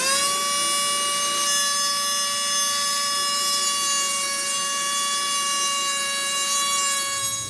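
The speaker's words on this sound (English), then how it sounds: "So I ended up just using an oscillating saw just to like cut that plastic off." Oscillating saw cutting the plastic housing of a Broan bathroom exhaust fan, heard as one continuous, steady, high-pitched whining buzz held close and loud for several seconds without a break.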